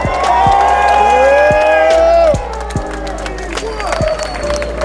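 A large crowd at an outdoor rally in Washington, DC cheers and applauds loudly, a steady wash of clapping and whoops with some voices over it.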